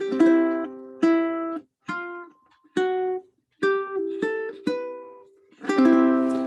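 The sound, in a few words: slow strummed string instrument ending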